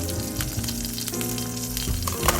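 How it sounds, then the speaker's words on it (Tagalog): Garlic and onions sauté in coconut oil in a hot pan, giving a steady close crackling sizzle with light stirring scrapes and no voices over it. "I'm going to saute the garlic, the onions."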